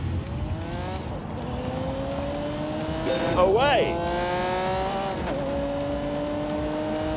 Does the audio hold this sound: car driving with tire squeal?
yes